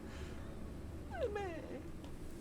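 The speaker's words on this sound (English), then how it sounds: "Sad little kitty noises." A cat gives a single drawn-out, plaintive meow that slides downward, close and moderately quiet against a faint room hum, with brief soft chirps trailing after.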